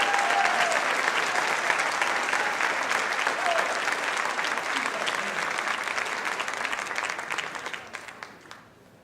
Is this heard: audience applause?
yes